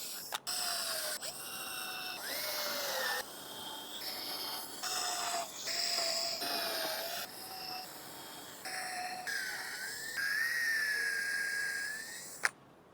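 A power drill whirs in a series of short bursts while pre-drilling a wood panel, each motor spin rising in pitch before stopping, close and loud with brief pauses between runs.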